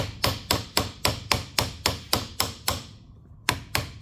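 A nylon mallet strikes a stainless steel trumpet in steady, evenly spaced blows, about a dozen sharp metallic knocks close up with a brief pause before the last two.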